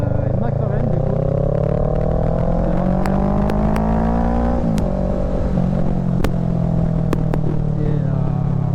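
A McLaren sports car lapping a track, its engine droning steadily with pitch climbing and dipping through gear changes, loud and close throughout with brief sharp clicks over the engine.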